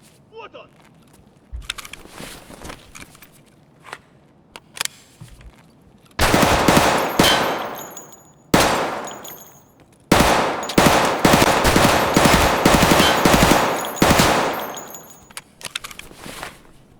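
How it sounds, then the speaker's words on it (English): Bursts of machine gun fire in Escape from Tarkov on Ground Zero, sustained loud rattling volleys after quieter scattered sounds, with talk alongside. "the machine gun is over there"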